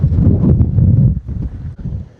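Strong wind near windmills beside Lake Assal in Djibouti buffets the microphone with loud, rumbling low gusts that ease off briefly before surging again.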